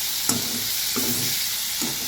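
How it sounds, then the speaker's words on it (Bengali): Slit green chillies and spring onions frying in oil in a pan for a fish curry, a steady hiss broken by three rhythmic scrapes and stirs of a spoon, close up and without talk. "লঙ্কা চিড়ে দিয়ে দেব, আর তার সাথে দিয়ে দেব পেঁয়াজ কলি। তো ভালো করে নাড়িয়ে নেব।"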